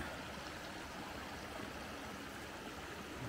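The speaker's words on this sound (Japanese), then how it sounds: "綺麗な川よね" Clear river flowing through an autumn valley, a steady broadband rush of water with no breaks, even and moderately quiet, with no voices.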